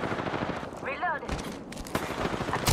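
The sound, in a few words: gunfire in Apex Legends video game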